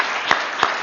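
Brief burst of audience applause at a parliamentary event at the British Mandate 100 gathering, a steady clatter of many hands with two sharper claps standing out.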